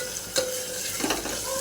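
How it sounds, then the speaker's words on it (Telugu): Chicken curry fries in a pan on the stove with a steady hiss and sizzle, broken by a few sharper crackles and scraping stirs, close and without talking. "ఇది బాగా ఫ్రై చేసుకోవాలండి"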